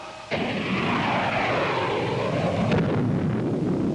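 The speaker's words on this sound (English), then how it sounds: "Missile units commence firing by twos." Missile launch fire in a sci-fi TV episode, a sudden loud whooshing roar that starts abruptly and sustains as a rushing blast, with a second surge near the end.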